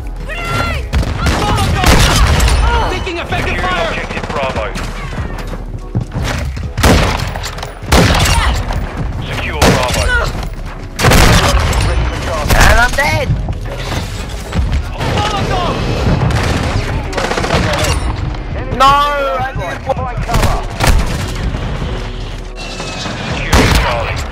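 Dense gunfire in the video game Call of Duty MW2 on the Shipment map, with rapid bursts, booming explosions and sharp game effects throughout, under frequent excited talking.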